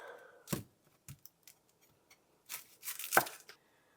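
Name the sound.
knife cutting the ends off an onion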